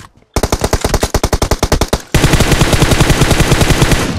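Machine gun fire from PUBG Mobile starts as a rapid burst of evenly spaced loud shots, pauses for a moment, then returns as dense, unbroken automatic fire with no talking.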